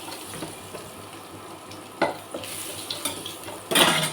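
Crushed garlic fries in hot oil in a pan with a soft, steady sizzle, broken by a few sharp scrapes and clinks of a spatula against the pan.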